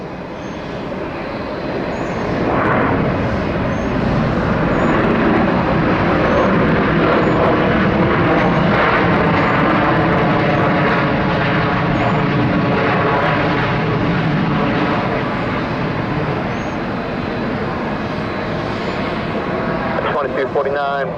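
A fixed-wing airliner at Atlanta International Airport roars loudly and continuously for the whole stretch, a broad steady engine rumble with a rising and falling whine, heard close and alone.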